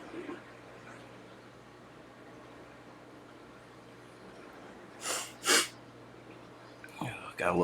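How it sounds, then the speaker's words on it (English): Someone with a cold gives two quick, sharp sniffles, then a third near the end, against quiet room hum. "Got a little case of sniffles."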